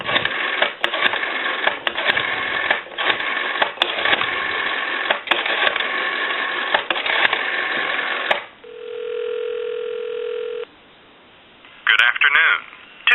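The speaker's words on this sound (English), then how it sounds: "Give you some dial tone" Narrowband telephone-line noise gives way to a steady, unbroken dial tone for a couple of seconds, followed by quiet and then a short burst of dialing tones.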